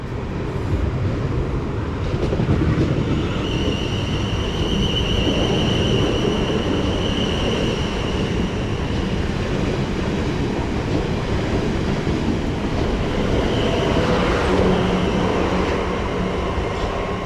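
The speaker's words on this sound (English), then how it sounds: "heading out here is the 1248 service to London Waterloo from Weymouth" A Weymouth to London Waterloo passenger train pulls out of a Hampshire station with a steady, loud rumble and rolling wheel noise that holds throughout, with faint high squeals from the wheels over the rails.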